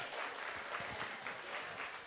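A seminar audience at a final real-estate masterclass session in Orlando applauds steadily, a dense wash of many hands clapping at moderate, even loudness throughout.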